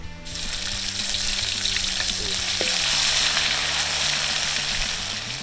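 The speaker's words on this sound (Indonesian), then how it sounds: "Pertama, tumis dulu bumbu halusnya." A ground spice paste sizzles steadily as it is sautéed in a pan in a Central Java kitchen, a dense continuous frying hiss with faint scraping and clicking under it and no talking.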